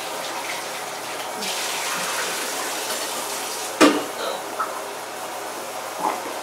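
Tap water runs steadily into a film processing tank during a rinse, a constant hissing flow with a few clunks and splashes from handling, a voice speaking briefly over it.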